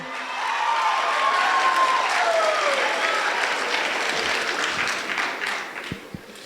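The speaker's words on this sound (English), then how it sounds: "A round of applause, please." A school audience at a Black History Month assembly for Lynn Classical High School breaks into sustained applause, a dense wash of clapping that holds steady and then tapers off near the end.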